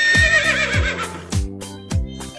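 A horse, a stallion or mare, whinnies in a series of loud, close, quavering neighs, about four calls in quick succession.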